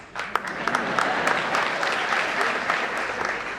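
An audience at a Marathi talk by a Deputy Superintendent of Police gives a burst of applause: sharp individual claps at first, then a dense, sustained round of clapping filling the room.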